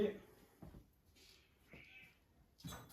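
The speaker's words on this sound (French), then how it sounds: "j'ai un chat qui a l'air vraiment malheureux que je fasse du tuning sur cette pauvre Clio" Cat meowing indoors during work on a Renault Clio II, a few faint, drawn-out meows spread across the moment, with quiet speech and soft handling noises in between.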